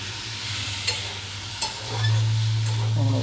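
Boiled green jackfruit is stir-fried in a pan, sizzling continuously with a couple of sharp scraping stirs and a louder burst of frying toward the end, no voices.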